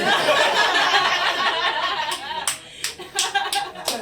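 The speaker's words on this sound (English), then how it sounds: "See that Pakistani lady is clapping" In a comedy club, a lone audience member claps sharply about six times in an uneven rhythm, heard close and distinct after a stretch of murmuring and light laughter from the crowd.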